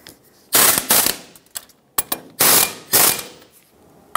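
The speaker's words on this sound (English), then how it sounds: "Bottom these out and then torque them." Ratchet tightening front brake caliper bolts on a 1996-2002 Toyota 4Runner, close, sharp bursts of rapid clicking in several quick strokes with short pauses between, no voices.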